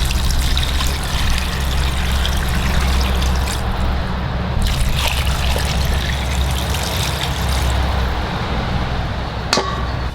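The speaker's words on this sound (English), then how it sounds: "let's go ahead and add in some water." Water pours steadily into a pot for pork bone soup, a continuous loud splashing trickle lasting several seconds with a short sharp knock near the end.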